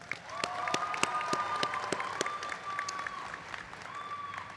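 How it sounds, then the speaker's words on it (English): Commencement audience applauding the graduate speaker at a nursing and optometry college ceremony: steady clapping from a large hall crowd, moderately loud, with distinct individual claps standing out and a faint tone running underneath. "Let's give her a round of applause."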